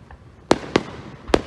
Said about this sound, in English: Fireworks in Frontier Park.